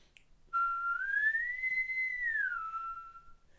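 A single clear whistled tone, rising then holding steady before sliding back down, about three seconds long, close and alone against a quiet background.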